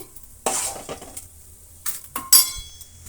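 Fried tamarind chutney ingredients scraped from a pan into a bowl, giving a few short clinks and scraping stirs in separate bursts with quiet gaps between them.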